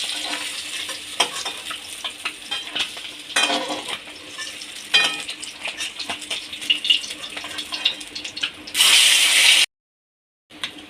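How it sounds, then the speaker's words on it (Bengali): Bata fish frying in hot oil in a home kitchen, a continuous sizzle with occasional stirring and utensil clatter, close and loud, ending in a brief sharper hiss before cutting out. "এবার এইভাবে আমি সবগুলো ভেজে নেব।"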